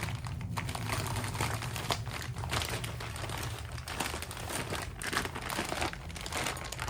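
A package holding a Honda power-window part is zipped open up close, giving continuous crinkly plastic rustling and rapid ticking scratches with no pauses.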